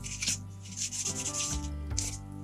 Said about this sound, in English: Sand off that little bit of rust that showed up.